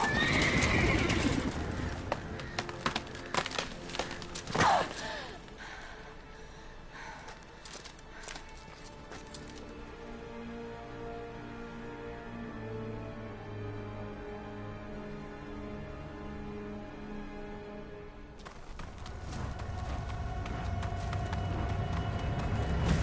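In The Witcher 3, a horse snorts and whinnies loudly, then its hooves clip-clop along at a walk and trot, sometimes faint and sometimes nearer, with game sounds around it.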